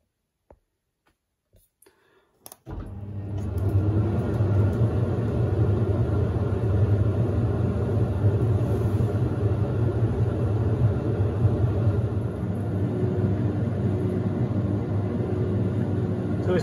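A few clicks, then an AEG Lavatherm compact tumble dryer starts up and runs with a steady low rumble and whirring hum, continuous and moderately loud.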